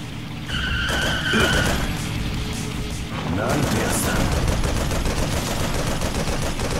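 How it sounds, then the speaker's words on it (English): Gunfire rattles in bursts during a boss fight in Yakuza: Dead Souls, loud and continuous amid engine and skidding noise, with a voice talking over the shooting. "I think I have to start shooting him"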